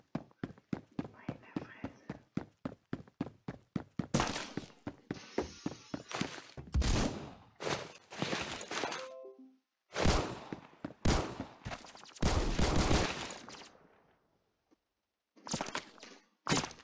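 Rapid bursts of gunfire from a Colt LMG in the game Roblox Phantom Forces, single shots and fast volleys, punchy and close, separated by brief pauses and a few louder impacts.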